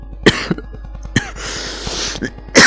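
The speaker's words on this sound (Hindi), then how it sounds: "खांसी आ रहा था।" A person coughing at close range, a few sharp separate coughs spread over a few seconds, with a short throat-clearing rasp in between.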